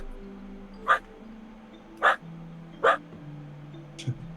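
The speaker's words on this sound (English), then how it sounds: "You hear the barking of dogs in the distance." Distant dogs bark outdoors, four spaced single barks over a low steady hum, faint and far off.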